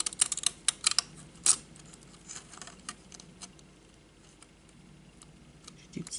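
Scissors cutting paper for card making, a fast cluster of crisp little snips at the start, then sparse faint clicks and rustles, no voices.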